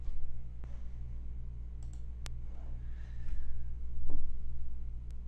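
Faint, sparse mouse clicks in a quiet room, a few isolated sharp ticks spread across several seconds.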